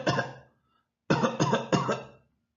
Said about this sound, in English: She had a cough.